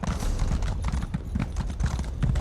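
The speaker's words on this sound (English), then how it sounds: "now you can ride on a horse" Rapid, rhythmic hoofbeats of a galloping horse in the video game The Elder Scrolls Online pound steadily throughout, close and fairly loud.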